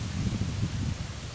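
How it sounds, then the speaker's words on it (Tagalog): A strong gust of wind rushes through trees at a remote outdoor site, a dense continuous rustling roar of leaves with a heavy low rumble, steady and close with no voices. "biglang lumakas ang hangin."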